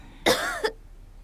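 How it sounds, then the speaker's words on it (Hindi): A single sharp, close cough with a short throaty tail, followed by quiet and the start of another burst at the end. "खांसी भी आ रही है"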